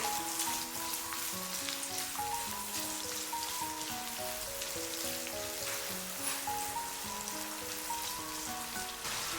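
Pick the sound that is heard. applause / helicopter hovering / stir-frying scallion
stir-frying scallion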